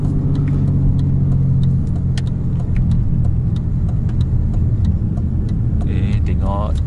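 A Perodua Viva with a manual gearbox hums steadily from inside the cabin, the engine note shifting as it drops a gear on a village road, loud and continuous with a voice talking over it.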